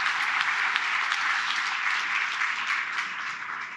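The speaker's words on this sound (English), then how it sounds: "please join me in applauding him for his wonderful address last evening" Audience applause for Finnish President Stubb at a speaking event, a dense, steady wash of many hands clapping at close range that holds throughout and eases only slightly toward the end.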